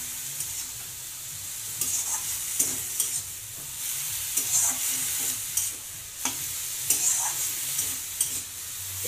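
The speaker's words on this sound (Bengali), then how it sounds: "এখন মাছটাকে দিয়ে দেবো।" Small fish go into a pan of soft greens cooking in a Bengali-style dish, giving a quiet, steady sizzle with a spatula scraping and stirring in repeated strokes, no voices present.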